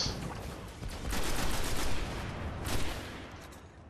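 Enemy gunfire in the video game Destiny, a dense rattling fusillade of overlapping shots that swells and fades continuously throughout.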